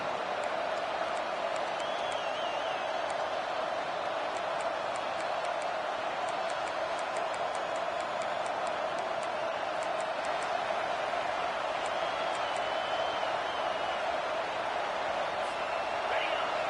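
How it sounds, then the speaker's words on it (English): Simulated stadium crowd roars steadily in a college football video game, Georgia vs Ole Miss, a dense sustained wall of cheering that holds throughout with no pause. "How about this crowd rattling the rafters and trying to help their defense?"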